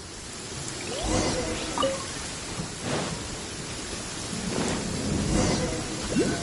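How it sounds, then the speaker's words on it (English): A lightning storm in a video game: steady hissing rain pours throughout, broken by several low rolling thunder rumbles at close range, with no voices. "Uh-oh! Lightning storm!"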